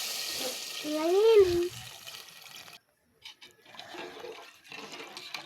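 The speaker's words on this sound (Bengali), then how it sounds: "তো আমার ভাজা ভাজা হয়ে গেছে, এখানে আমি পানি দিয়ে দিব।" Water is poured into frying lentils (dal) in a pan: a short, loud rushing pour with a gurgle, then a brief silence and low, scattered sizzling and stirring sounds.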